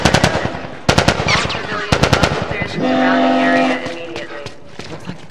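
Rapid automatic gunfire bursts in The Last of Us, loud and close, with sharp repeated cracks in several volleys, alongside shouting voices and a steady engine-like drone mid-scene.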